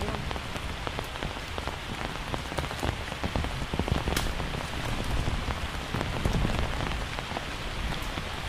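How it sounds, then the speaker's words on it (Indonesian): Steady rain falls through a bamboo forest, a dense continuous patter of drops striking leaves and stems with scattered sharper close taps, even in loudness throughout and with no voices. "tapi hujan sudah turun"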